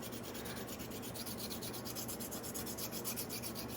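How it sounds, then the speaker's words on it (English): Close, steady sanding of a clay piece: repeated rhythmic rasping strokes scrape back and forth without pause. "I think the sanding is going to work better with this."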